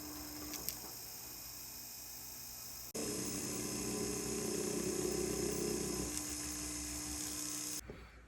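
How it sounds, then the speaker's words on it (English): A rotary tool grinds down fresh metal on an antique ring setting, a steady high-pitched whine that jumps louder partway through, holds for several seconds, then cuts off abruptly near the end. "we can grind down the top and we can start with setting the stone again"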